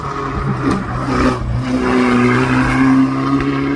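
A hillclimb race car with its engine misfiring, apparently off a plug, drones steadily at a distance with an uneven, rough note that holds its level throughout, with no voices.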